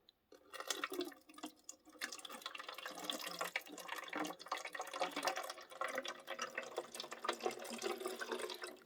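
Water pours steadily into the small reservoir of a 2022 Lemax Twilight Bed and Breakfast smoking building, a close, continuous splashing trickle with no voices.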